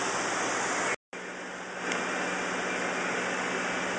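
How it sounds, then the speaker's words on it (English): Floodwater from Hurricane Irene rushes heavily down a brook in Brattleboro, Vermont, a loud, steady broadband roar with one brief dropout near the start. "see that water still flowing heavy."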